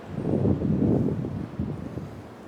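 Gusty wind buffets the microphone outdoors on a walk in Denmark, a steady low roar that swells and eases over a couple of seconds with no voices.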